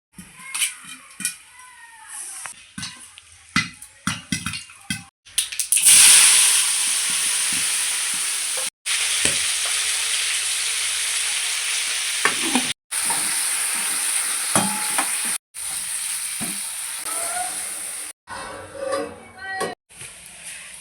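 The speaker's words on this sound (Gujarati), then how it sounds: "એક બાજુ અહીંયા તેલ નાખીને સબ્જી વઘારી દઈશું." Vegetables hit hot oil in a home pressure-cooker kitchen where popcorn is also being made, bursting into a loud, steady sizzle that runs for many seconds, broken by brief gaps, with clatter and a voice before it.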